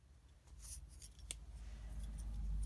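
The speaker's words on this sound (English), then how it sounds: "All right, so I'm going to snip this here." Scissors snip through material while crafting a Christmas junk journal kit, giving a few quiet, sharp cuts in the first second and a half, then just a low steady hum with no talking.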